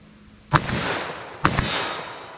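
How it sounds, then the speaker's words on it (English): Two sharp, loud .357 Magnum gunshots fired in quick succession about a second apart outdoors, each followed by a long fading echo. "I'm gonna double tap a 357, see how it feels for me in speed."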